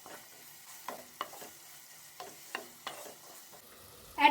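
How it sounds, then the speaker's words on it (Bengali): Chopped onion and six cloves of garlic fry lightly in oil in a pan, a quiet sizzle broken by several sharp stirring scrapes spaced through the clip. "হালকা ফ্রাই করে নিচ্ছি।"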